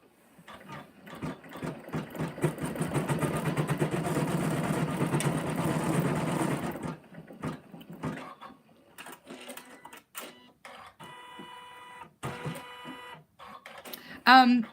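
An embroidery machine stitches out a pattern on the bottom of a basket, a dense steady mechanical whirr for the first seven seconds, followed by quieter intermittent rattling and clicks, with a voice speaking over it.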